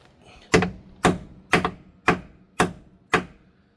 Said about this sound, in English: We're going to give that socket a gentle tap on.